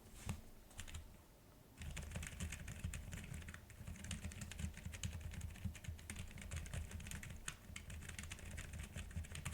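Typing on a mechanical keyboard with linear switches lubed with Super Lube, soft rapid keystrokes in a dense irregular patter, quiet and close, with a short lull early on.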